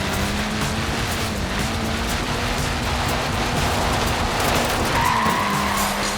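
Small tyres of a Mini skid and squeal across the tarmac in Forza Horizon 4, a steady hissing screech with a thin whine running the full length over a constant engine drone.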